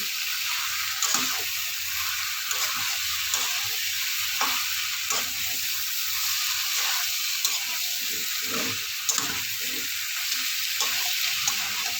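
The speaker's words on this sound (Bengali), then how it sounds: "আলু আর এঁচড়ের মধ্যে মশলাগুলো ভালো করে মেশানো হয়ে গেলে উষ্ণ গরম জল ঢেলে দেব" Jackfruit and potato frying with spices in a pan, loud steady sizzle throughout with stirring scrapes, as warm water is poured in.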